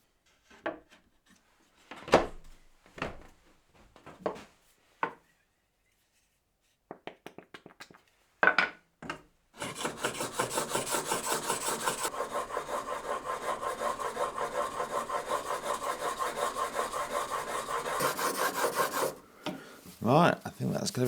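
A knife blade rasps steadily across a 1000 grit whetstone in close, quiet strokes, first a few separate passes, then a long continuous run of rhythmic grinding.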